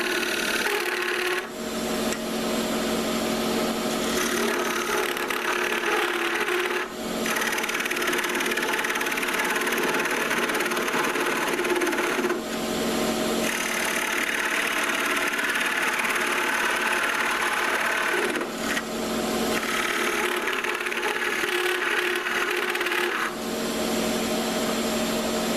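A wood lathe spins a vase blank held in a Grizzly chuck on a dovetail tenon while a skew chisel cuts it, giving a steady loud whirring hum with rasping cuts that pause and resume in several bursts.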